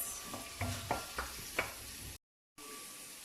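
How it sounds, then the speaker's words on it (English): Chopped red onion and garlic sizzle steadily in a hot pan, with several sharp scraping stirs near the start, then a brief dropout before the sizzle resumes. "So just frying the onion and garlic"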